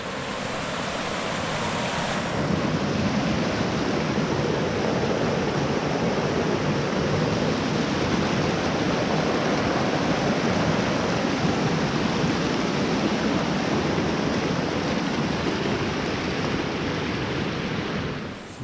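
Chicago Creek rushes loudly beneath a bridge crossing on a high Colorado trail, a dense, unbroken roar of flowing water that swells slightly after the opening seconds and holds steady to the end.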